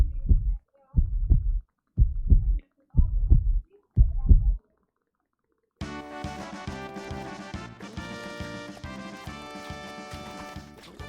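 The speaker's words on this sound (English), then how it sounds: "I could feel my heart beating through my chest." Heartbeat sound effect with five deep, evenly spaced thumping beats, then a brief silence before music begins.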